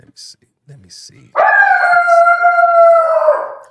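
A dog lets out a long, loud howl that holds and slowly fades, preceded by a few brief quiet sounds and a short spoken phrase.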